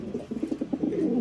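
A male Goed Grijs racing pigeon coos close by in a quick run of low, throaty pulses that swell into a sustained rolling coo.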